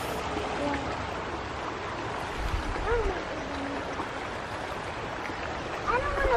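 Close river water rushes and babbles continuously beneath a few brief, quiet remarks from nearby people.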